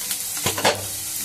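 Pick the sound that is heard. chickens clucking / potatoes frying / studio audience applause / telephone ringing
potatoes frying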